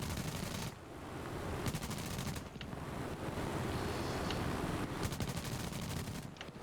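The .50 caliber machine guns of an F4F Wildcat fire in the War Thunder flight game, coming in rapid bursts over constant engine and wind roar, fairly faint in the mix.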